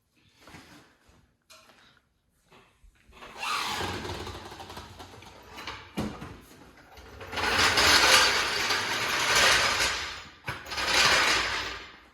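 A Nissan 350Z (Z33), fitted with newly installed Nismo S-Tune suspension, is lowered on a garage lift, with a steady mechanical whirring and clunking that builds over several seconds, pauses briefly, then resumes loud and close.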